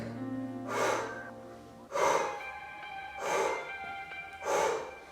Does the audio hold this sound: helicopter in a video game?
no